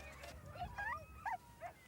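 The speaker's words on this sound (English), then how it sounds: "The dogs are hungry, so I have to be a little bit careful not to get bitten." A hungry, very skinny stray dog whimpers and yips in a series of thin, rising whines, faint and a little distant over low outdoor background noise.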